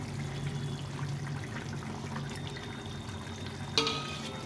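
Fried rohu fish pieces go into a simmering eggplant, potato and tomato curry, with a steady soft bubbling sizzle throughout and one sharp splashy drop near the end.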